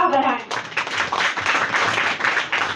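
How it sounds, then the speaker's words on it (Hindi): Applause breaks out at a school Teachers' Day program, dense clapping from an audience in a hall, steady and fairly loud for a few seconds after a brief voice at the start. "एक बार जोरदार तालियां हो जाए और तालियां बजाकर हमारा उत्साह बढ़ाएं।"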